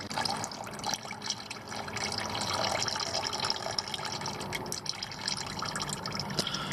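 Engine oil draining from a 2017 VW Jetta 1.4T during an oil change, a continuous trickling pour into a catch pan, fairly quiet and unbroken, with no talking.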